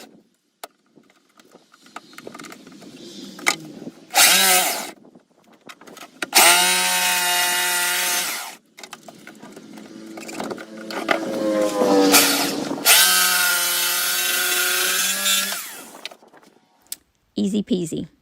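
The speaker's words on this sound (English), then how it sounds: "I'm just going to take my jigsaw and just cut that out" A jigsaw cutting through salvaged rustic wood, buzzing in several loud, close bursts of a few seconds each, separated by brief pauses and quieter handling noises.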